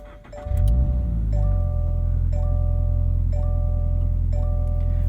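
2022 Subaru BRZ fitted with an MRT Sport Touring axle-back exhaust, started on a chilly 31-degree morning: a short crank, then a steady, deep idle rumble, with a high chime repeating about once per second.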